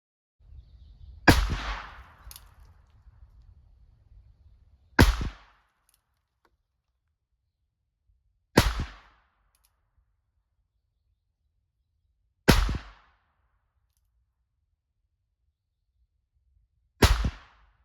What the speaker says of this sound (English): I'll be shooting it from 2 or 3 yards maybe, what I would consider to be reasonable shooting distances for this handgun